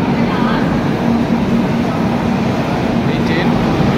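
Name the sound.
train to Tirupati running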